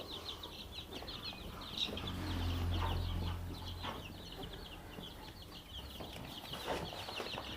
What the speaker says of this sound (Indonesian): Nampaknya si ayam ini begitu sehat, gemuk.